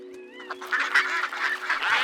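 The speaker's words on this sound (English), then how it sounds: "which meant time for the ducks to fly home" Cartoon ducks quacking nearby in a short burst of several overlapping calls, with a faint steady tone underneath.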